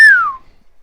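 A single person whistles one short, loud note that glides steadily downward in pitch, fading out within half a second and leaving near silence.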